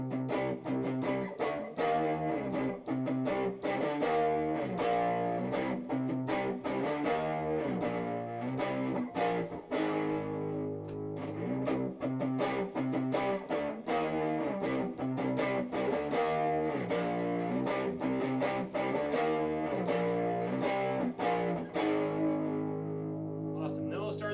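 Distorted electric guitar chugging chunky power chords in a steady driving rhythm, loud and continuous with no pauses.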